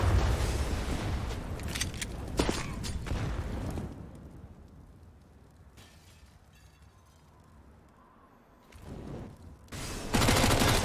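USP and P250 pistols fire in a Counter-Strike match, with loud clustered shots at the start, a quieter stretch in the middle and more sharp shots near the end.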